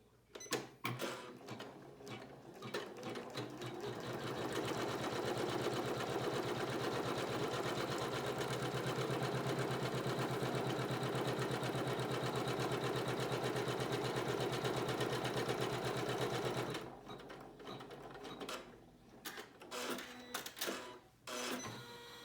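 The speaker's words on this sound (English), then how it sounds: "we're going to send it back to the machine and we're going to stitch a" An embroidery machine stitches a trimming line through fabric for a flip-and-sew spinwheel, a steady, rapid mechanical whirring that runs for about fifteen seconds before stopping, with a few short clicks and knocks before and after.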